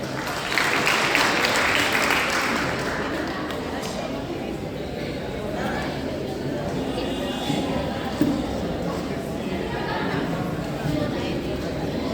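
An audience at a school event applauds loudly to welcome a guest, a burst of clapping that swells early and then settles into a steadier background while a voice speaks over it.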